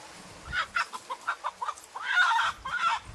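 A village country chicken clucks close by in a quick run of short notes, then lets out a longer, drawn-out squawk.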